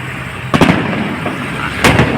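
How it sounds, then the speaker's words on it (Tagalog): Fireworks bursting over the Pasig River esplanade during an inauguration display: two loud, sharp explosions about a second apart over a continuous background rumble from a distance. "Ayan, nag-firework na."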